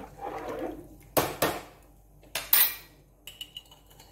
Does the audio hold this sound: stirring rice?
yes